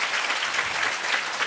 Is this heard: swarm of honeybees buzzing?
no